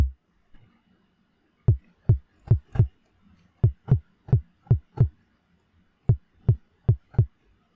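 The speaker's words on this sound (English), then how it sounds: "So yeah, now you know this is a kick drum." Punchy synthesized kick drum hits in short bursts of four, deep and booming, repeating with pauses between groups, no voices.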